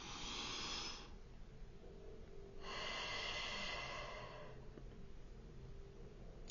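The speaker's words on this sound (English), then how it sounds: "Take a deep breath with me" A slow, deep breath drawn in and let out, then another, airy and soft against a faint steady background hum, with no talking.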